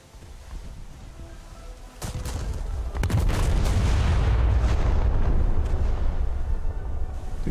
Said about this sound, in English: These 15-inch guns sound very meaty.